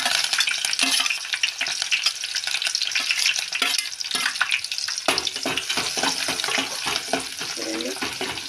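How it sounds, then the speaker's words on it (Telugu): Onions with curry leaves fry in a pan while bitter gourd curry is cooked, giving a steady, loud sizzle with scraping stirs and a few clinks throughout. "ఆనియన్స్ ఆనియన్స్ కొంచెం వేగాలి వేగినాక మిర్చి వేద్దాం"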